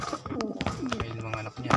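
Pigeons coo in soft, throaty repeated calls at close range, with rustling and wing or body movement mixed in.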